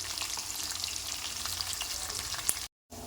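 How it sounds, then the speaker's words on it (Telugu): Onions frying in a pan for a country chicken curry, a steady dense sizzle with light crackle throughout, a brief dropout near the end, no voices. "ఆనియన్ ఎక్కువ తీసుకుంటే ఆనియన్ మంచిగా బ్రౌన్ కలర్ వచ్చే వరకు ఫ్రై చేసుకోవాలండి."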